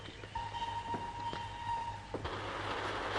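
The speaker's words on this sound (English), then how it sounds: "How would you like to be on that train, Cosmo?" Passenger train bound for Berlin on a 1936 film soundtrack: a steady low rumble of rolling wheels with a long sustained whistle tone, then rhythmic clacks and a sharper burst as the train passes, moderately loud.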